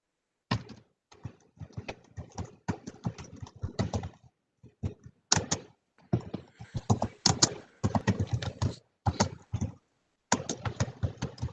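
Keys on a computer keyboard clatter in bursts of rapid taps through an open microphone during a live-streamed meeting, with short pauses between runs of typing.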